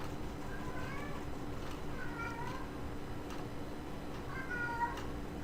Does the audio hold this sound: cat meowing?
yes